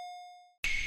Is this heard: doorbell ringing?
yes